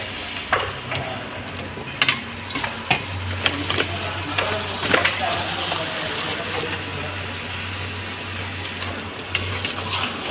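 Crab stirred in a pan while cooking Singapore crab: scraping and clattering against the metal over a steady sizzle and low background hum, with occasional sharper knocks.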